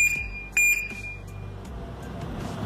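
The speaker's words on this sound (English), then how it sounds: "This lock has a motion sensor. It can detect motions and vibrations. So after the beep, if someone tries to open it," Electronic warning beeps from an anti-theft lock with a motion and vibration sensor, a few short high-pitched chirps close by, then a quieter stretch with faint background noise.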